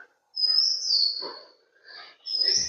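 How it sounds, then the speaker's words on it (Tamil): Small birds, sparrows, chirp in trees at a historic house, with a few bright, thin calls in short bursts separated by brief pauses, fairly faint and clear with no talk over them. "அந்த மாதிரி உள்ள பார்த்தீங்கன்னா நிறைய சிட்டுக்குருவியோட சத்தம்லாம் கேட்குது பார்த்தீங்களா."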